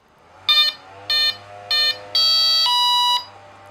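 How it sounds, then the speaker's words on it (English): Electronic beeps from a 1.4 m Volantex Ranger RC plane's electronics: three short high-pitched tones at an even pace, then one longer sustained beep that shifts pitch partway through, loud and close. "So the beeps are good."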